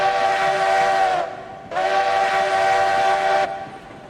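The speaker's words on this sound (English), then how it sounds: "Scream and whistle on this locomotive." A steam locomotive whistle in the train simulation game RailRoads Online sounds two loud, steady tonal blasts, the first about a second long and the second nearly two seconds, separated by a brief pause.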